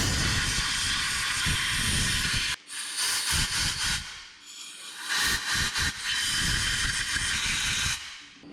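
Compressed air blasts accumulated dust out of the engine of an old 1951 Chevrolet farm truck, loud and close, in long hissing bursts broken by short pauses.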